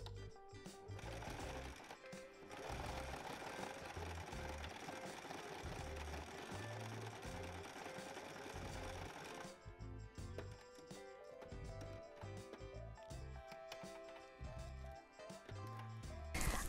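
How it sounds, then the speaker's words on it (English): A sewing machine zigzag-stitches through plastic and bias tape in steady, fairly quiet runs of rapid needle clatter, broken by short pauses between passes. "So I'm just going to cut and then zigzag stitch on top."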